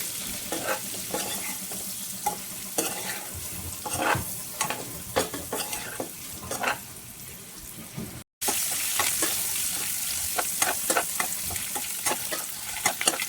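Boiled eggs roast in hot oil in a pan for egg biryani, a continuous close sizzle punctuated by frequent scraping and stirring clicks of a spatula, with a brief cut midway and no talking.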